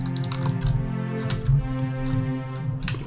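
Keys are tapped on a computer keyboard while working in Logic Pro X, rapid light clicks in an uneven rhythm laid over sustained music playing in the background.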